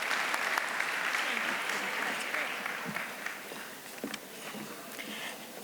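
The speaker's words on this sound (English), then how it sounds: "let's give him one more big round of applause" An audience at a National Philanthropy Day event claps loudly and continuously, a dense wash of applause that fades slightly toward the end.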